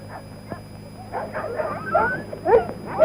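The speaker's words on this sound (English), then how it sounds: "Evening and feeding time for the huskies." Husky sled dogs yip, whimper and bark at feeding time in a 1954 polar camp, a scattered chorus of overlapping calls at moderate distance over a steady low background hum.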